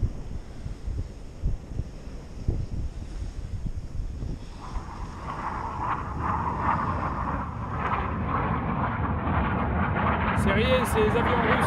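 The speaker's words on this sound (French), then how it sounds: "C'est rien, c'est les avions russes." An aircraft passes over a beach, its broad roar swelling steadily louder over several seconds, with gusty wind buffeting the microphone throughout.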